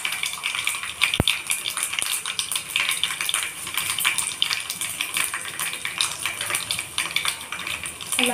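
Mustard-seed tempering with garlic cloves spits and crackles in hot oil, a dense steady hiss of fine pops with one sharp clank of a utensil early on.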